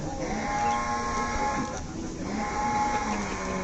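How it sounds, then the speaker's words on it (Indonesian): Sacrificial cow lows at an Eid al-Adha meat distribution outside a Golkar party office, a drawn-out bellowing call heard at moderate distance over a constant crowd and background murmur. "Ada interupsi dari sapi."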